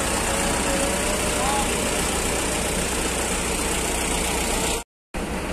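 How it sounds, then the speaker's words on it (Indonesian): A Budiman Tasik bus pulls into Kalideres bus terminal, its engine a steady, loud low rumble and hum against busy terminal noise, with a brief cut to silence near the end. "Ini baru masuk unit bus Budiman Tasik Kalideres."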